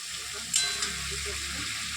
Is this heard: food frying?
yes